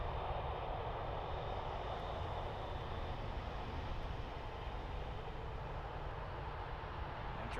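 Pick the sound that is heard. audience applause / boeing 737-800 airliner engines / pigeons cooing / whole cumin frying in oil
boeing 737-800 airliner engines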